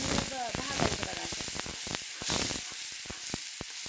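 Ridge gourd fries in hot oil in a home kitchen, with a steady close sizzle broken by sharp crackles and pops all through, under a faint background voice.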